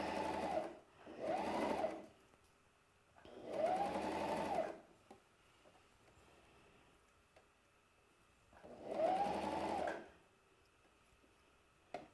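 A sewing machine stitches double-fold elastic trim onto the edge of shorts in four separate short bursts, each lasting about one to one and a half seconds. Quiet pauses fall between the bursts, and each run sounds close and clear.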